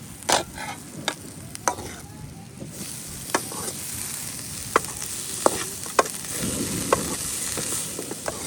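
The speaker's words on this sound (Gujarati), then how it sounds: "ભાજી નાખીને પછી આપણે હલાવીશું" Vasedi leafy greens fry in a pan with a constant sizzle, punctuated by sharp scraping clicks of a spoon stirring at irregular intervals, close and fairly loud.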